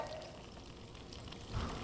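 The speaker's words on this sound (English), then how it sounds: "And you can hear that sizzle." Pasta sizzles and crackles steadily in a hot frying pan, a soft, dense frying hiss with a slight stir near the end and no talking.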